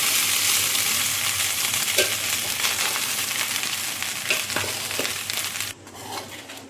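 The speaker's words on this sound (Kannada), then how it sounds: "ಇಲ್ಲಿ ರೈಸನ್ನು ಜೀರಿಗೆ ಒಗ್ಗರಣೆಯೊಟ್ಟಿಗೆ ಮಿಕ್ಸ್ ಮಾಡುವಾಗ ಮೆಲ್ಲನೆ ಮಿಕ್ಸ್ ಮಾಡ್ಕೊಳ್ಳಿ" Boiled Sona Masoori rice is stirred into a hot cumin-seed tempering in a pan, giving a steady, close sizzle with repeated scraping and crushing strokes that fades quieter near the end.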